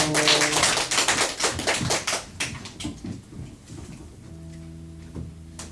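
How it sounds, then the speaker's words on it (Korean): A church congregation applauds at an afternoon worship service, the dense clapping strongest at first, then thinning and fading before a sustained keyboard chord rings out alone. "박수 주세요"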